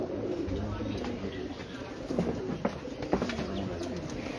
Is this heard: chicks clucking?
no